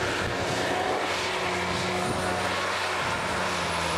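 A Tigercat forestry harvester works in a plantation, its engine and hydraulics giving a steady, moderately distant droning hum with a faint underlying whine, unbroken throughout.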